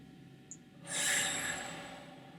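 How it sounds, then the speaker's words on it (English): A single deep breath during a standing side-bend stretch, a quiet pause followed by a long, airy exhale that swells and slowly fades, close and soft with no talking. "Deep breaths."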